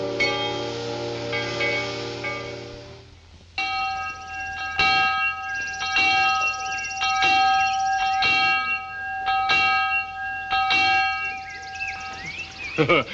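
A bell rings repeatedly with bright, sustained metallic clangs that strike at a steady rhythm and overlap as they ring out, loud and near, with a low hum underneath.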